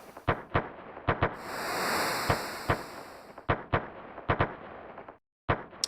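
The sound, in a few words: fireworks in the video game Chrono Trigger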